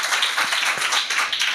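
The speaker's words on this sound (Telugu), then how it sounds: "గట్టిగా చప్పట్లు కొడదాం" Audience clapping at a church youth meeting, a steady dense patter of many hands filling the room at moderate loudness, with faint voices underneath.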